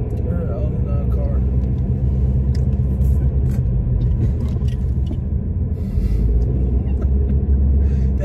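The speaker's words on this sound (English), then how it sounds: "We in a car." Steady low road rumble fills the cabin of a moving car, a continuous close drone with faint higher rattles and occasional light knocks over it, constant throughout with no talk.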